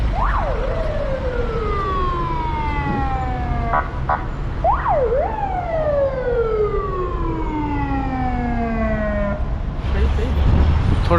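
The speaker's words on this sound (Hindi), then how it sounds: "जो एम्बुलेंसेस हैं वो भी जाम में फंसी हुई हैं।" Several emergency sirens wail in rising and falling sweeps from ambulances stuck in a traffic jam in Almaty, loud and continuous over steady road noise, with a voice speaking partway through.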